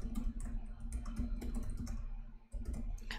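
A mobile phone keyboard is tapped quickly to write a chat message, a close run of light, irregular clicks over a faint room hum, with no voices.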